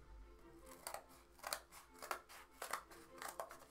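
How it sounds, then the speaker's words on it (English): Scissors cut a board for a sculpture, giving a quiet run of crisp snips in a steady rhythm at close range, with a low hum underneath and no talking. "I'm gonna have to cut my board."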